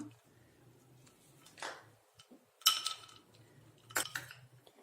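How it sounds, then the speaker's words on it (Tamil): Ice cubes drop into cucumber lemon juice, a few sharp clinks and cracks landing one after another, with a bright impact near the middle and another shortly after, over a low background hum. "ரெண்டு ஐஸ் கட்டி நம்ம வந்து இதில் போட்டோம்."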